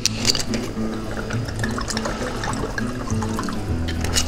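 Port wine is poured into a pan for a reduction, a soft continuous trickling and splashing of liquid, fairly quiet and close, lasting the whole moment.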